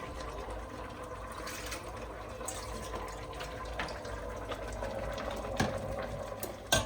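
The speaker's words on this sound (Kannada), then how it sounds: "ಇದನ್ನು ಸ್ವಲ್ಪ ನೀರು ಹಾಕ್ಕೊಂಡು ತೊಳ್ಕೊಂಡು" Water pours and trickles into a mixer grinder jar to rinse out ground masala for a home chicken biryani, a faint steady splashing with a few small knocks near the end and no speech.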